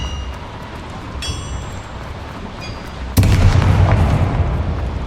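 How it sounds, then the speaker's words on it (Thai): In the video game Hogwarts Legacy, a sudden loud boom bursts in midway, followed by a sustained rumbling roar after a quieter stretch of low background noise. "เสียงอะไรระเบิดวะ"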